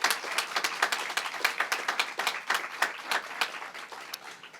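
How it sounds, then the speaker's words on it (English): An audience claps steadily and warmly for the contractors at a ribbon cutting for the Custer Alumni House, a moderate crowd applauding for several seconds with no talk over it. "Please give a round of applause for our contractors."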